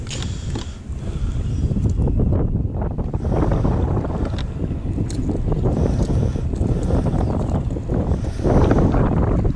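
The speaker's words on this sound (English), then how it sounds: "Pretty windy." Strong wind roars and buffets the microphone continuously, with low rumbling gusts and faint creaking throughout, in cold weather while bass fishing.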